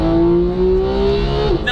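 A Porsche 991 GT3 engine revs high toward 9,000 rpm, giving a single loud, close, steady rising wail that cuts off abruptly near the end.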